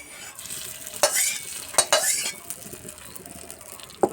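Mustard oil tempering with whole mustard seeds and a dried red chilli in a kadai, poured into a chutney. It gives a soft sizzling hiss with a few sharp bursts and utensil clinks close by.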